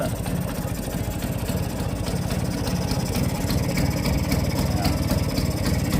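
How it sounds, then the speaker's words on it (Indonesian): A Vespa scooter engine idles roughly up close during carburetor tuning, its steady putter broken by a continuous rhythmic low knocking as if on the verge of stalling. "suara khas Vespa itu ngetuk antara mau mati nggak mati gitu loh"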